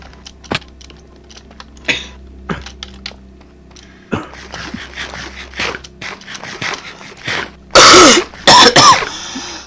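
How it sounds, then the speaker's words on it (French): Coughs and throat clearing from a French-speaking gamer during a multiplayer survival game session, several sharp bursts scattered among keyboard clicks and mechanical noises, with loud, harsh coughs near the end. "je suis obligé de me forcer à tousser fort quand je tousse"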